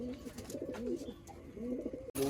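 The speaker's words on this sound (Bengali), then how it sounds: "First class Payra." Soft, rolling coos from Punjabi Malwai pigeons, a male and female among them, repeat close by in a quiet room, ending with a brief sharp noise burst.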